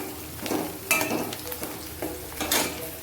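Onions frying in a pan for a fish roe dish, a steady sizzle with bursts of stirring and a few utensil scrapes against the pan.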